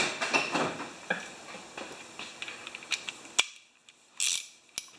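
Hand-tightening fasteners with a freshly sharpened blade in place gives a run of small clicks and ratcheting metal ticks, close and fairly clear, with a few sharper snaps and a quieter stretch near the end and no talk.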